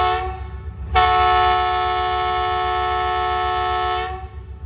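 The Awam Express sounds one long, loud, steady horn blast of about three seconds as it departs Drigh Road railway station, over a low idling rumble.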